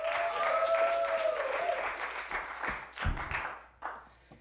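An open mic comedy show audience claps and cheers to welcome the next comic, a dense burst of applause that gradually thins out into scattered claps over a few seconds, with a whistle near the start.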